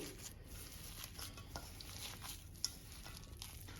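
Spice mixture for crispy aloo vada being stirred in a bowl, with soft, steady scraping and light clinks of a spoon against the dish at close range.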